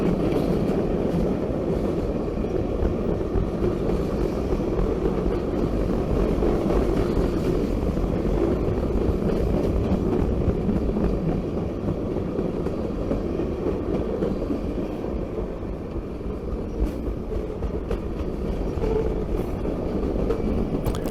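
Norfolk Southern freight locomotive rolling along the track in South Georgia, a loud, steady diesel rumble with continuous rail noise that holds throughout, close by and without speech.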